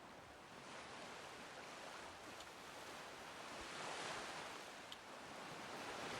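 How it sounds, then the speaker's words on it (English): Ocean surf washes continuously along a coast in the video game Skyrim, a soft, steady roar of breaking waves with some wind, faint and unbroken by talk. "Sound of the ocean."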